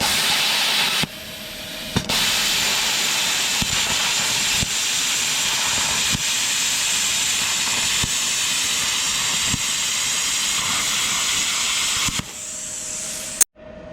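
An ESAB plasma cutter running at 28 amps slices through expanded metal mesh with a loud, continuous hiss, clicking on and off at the start and end, with sharp crackles as the arc jumps across the mesh strands.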